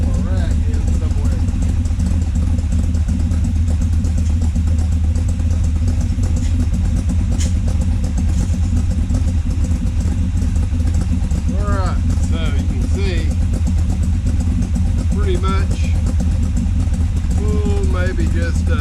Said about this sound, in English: Car's been running out here for about 10 minutes.